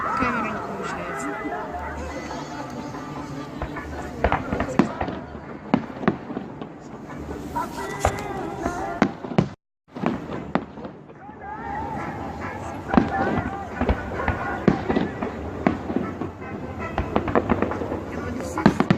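A fireworks salute going off in a steady stream of bangs and crackles, with a brief gap midway, while a crowd chatters and calls out close by throughout.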